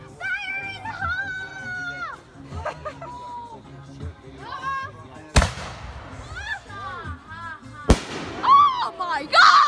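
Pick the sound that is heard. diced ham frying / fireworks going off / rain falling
fireworks going off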